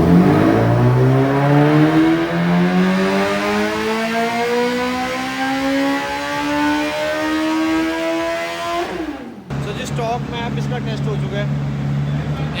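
A stock Suzuki Hayabusa motorcycle engine revs hard on a test run, pitch climbing steadily through a long pull for about nine seconds, then cutting back to a lower throb, loud and close.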